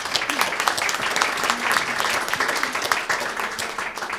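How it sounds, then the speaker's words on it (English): Audience applause at a Helsinki Region Transport marketing presentation, steady dense clapping from a crowd sustained for several seconds at moderate distance. "Maybe applause for Mari."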